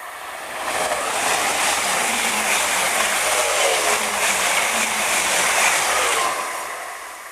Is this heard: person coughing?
no